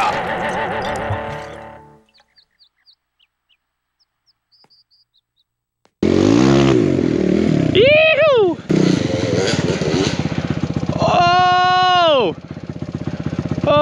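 A Kawasaki KLX 140 dirt bike fitted with a big bore kit revs loudly, falls nearly silent for a few seconds, then roars back with sharp rising and falling throttle sweeps close by; a rider shouts over it.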